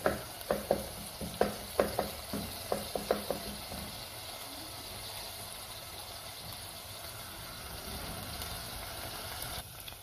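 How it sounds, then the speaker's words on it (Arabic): Chopped onion frying in a pan with repeated stirring scrapes in the first few seconds, then a steady sizzle with no talk, while preparing Sudanese fesikh. "انا هشوح البصل بهذه الطريقه"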